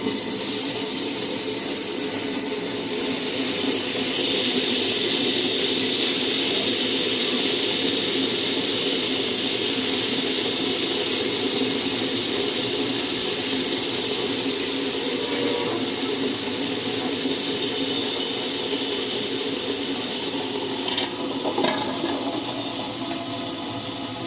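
A wet grinder churns ration rice into batter with a steady, loud, continuous whirring and sloshing rumble that holds unchanged throughout, with no voices.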